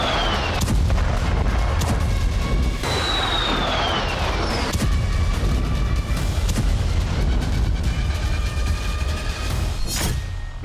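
Heavy booms and blasts from missile and bomb strikes on Ukraine, a dense continuous roar with repeated sharp cracks and thuds throughout, loud and close, with whistling tones overhead.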